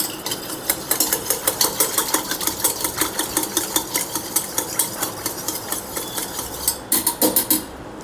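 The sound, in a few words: whisk mixing a cold sweet drink with saffron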